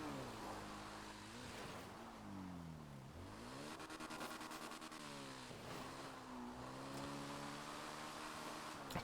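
An off-road motorbike engine in a GTA roleplay game, revving up and down repeatedly with rising and falling pitch sweeps, loud and continuous over a noisy background.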